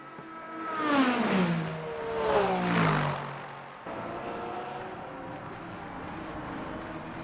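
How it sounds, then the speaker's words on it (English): Hypercars in a sim-racing Le Mans 4-hour event sweep past one after another, two rising-and-falling engine whines, with a steadier engine drone following close behind. "a couple of hypercars coming through"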